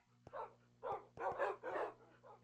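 Tamed dogs bark in Minecraft, a run of five or six short yips and barks in quick uneven succession, fairly faint over a steady low hum.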